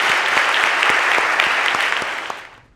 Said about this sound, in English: let's give them all, as a group, one final round of applause